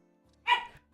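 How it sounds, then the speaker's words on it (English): A single sharp dog bark in a home, one loud burst standing alone against a quiet background. "Dogs make noise."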